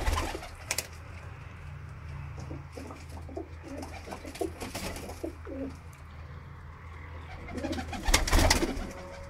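Black-faced Sialkoti pigeons coo close by in repeated soft, throaty bursts, with an occasional brief flutter of wings between calls.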